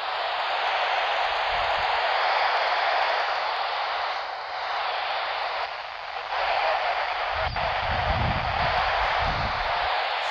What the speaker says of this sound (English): I love the sound of static in the morning.